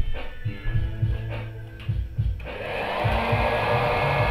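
A repaired and cleaned Breville Crazy Popper hot air popcorn maker runs with a steady blowing whoosh that swells louder partway through, over a low throbbing hum and irregular thumps.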